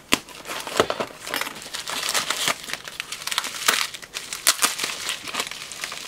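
Someone tears into a taped-up cardboard box nearby, a loud, steady run of crinkling, ripping and crunching with sharp bursts of tape and card and no talking.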